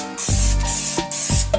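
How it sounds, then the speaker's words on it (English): Cooking spray hisses onto the edges of a cake pan in short bursts, three or four loud, close sprays separated by brief pauses, with no talking. "I'm just going to lightly spray the edges"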